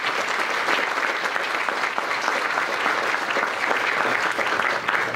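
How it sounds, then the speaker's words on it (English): Dense, steady applause from a large crowd at a courthouse groundbreaking ceremony fills the whole stretch, loud and even without pause. "So let's give Senator Negron a round of applause."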